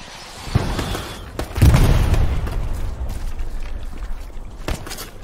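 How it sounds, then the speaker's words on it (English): Artillery shells land close by in the Hell Let Loose video game, producing deep booming impacts and rumbles with sharp cracks and pops scattered through a tense battlefield soundscape. "God, that artillery is so fucking close."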